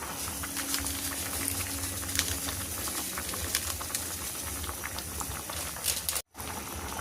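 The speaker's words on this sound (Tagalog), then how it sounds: "luto na yung ating salmon belly na sinigang" A pot of salmon belly sinigang soup seasoned with tamarind mix, bubbling steadily at a rolling boil, with close, continuous popping and hissing and a brief cutout near the end.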